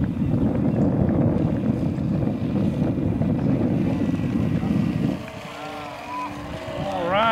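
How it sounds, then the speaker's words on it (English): Propellers of a radio-controlled B-24 model bomber rattle and drone steadily in flight, a dense buzzing engine noise that holds for about five seconds before dropping away, with wind noise around the microphone. "Nothing like the rattle of fake propellers."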